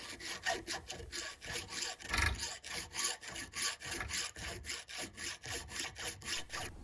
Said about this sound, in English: I just filed down the shoulders of the guard to get rid of anything that could be blocking it